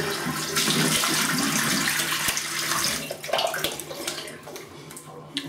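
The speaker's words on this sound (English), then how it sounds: "Let's rinse and then I'll go for the Alum." Tap water runs steadily into a sink as a face is rinsed after an aggressive shave with a Yaqi slant razor, a broad close splashing wash that thins out toward the end with a few drips and clatters.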